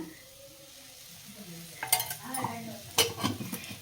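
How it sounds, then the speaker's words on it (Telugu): Chicken liver being fried in a pan in a home kitchen for a spicy liver fry: a quiet start, then a soft sizzle broken by clattering stirring bursts around the middle and again near the end, with no talking. "ఇదైతే లివర్లు ఫ్రై చేస్తానండి"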